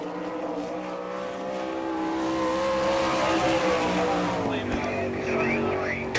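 A sprint car screams around the track on a qualifying lap at the All Star Circuit of Champions Winternationals in Gibsonton, Florida, its distant engine note swelling louder and sweeping upward in pitch as it passes.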